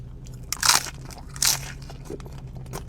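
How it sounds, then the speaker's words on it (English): Someone bites into a crunchy Taco Bell taco with extra veggies, two sharp, close crunches followed by fainter chewing crackles in a quiet room. "Crunchy taco with extra veggies"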